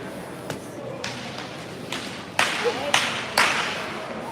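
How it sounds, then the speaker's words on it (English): A whip cracked on the rainy Royal Mile in Edinburgh during the Fringe festival: several sharp cracks ring out ahead, spaced about half a second apart, faint at first and then louder, over rain and street ambience. "Sounds like a whip banger up there"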